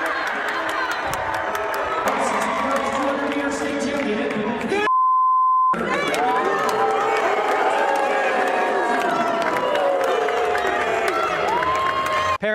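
Large crowd at a high school girls' track meet, booing and shouting continuously and loud throughout, with a short steady beep tone cutting in partway through.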